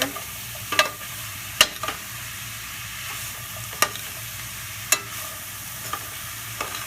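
Vegetables soften in a pan with a little oil under a low, steady sizzle, punctuated by several sharp scrapes and clicks of a utensil stirring them at irregular intervals.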